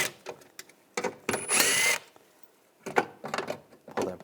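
Power tool with a 7mm socket backing out fasteners on a window regulator bracket inside the front door of a 2014-2018 GMC Sierra, with several short whirring bursts, one longer run near the middle, and close, fairly loud handling between them.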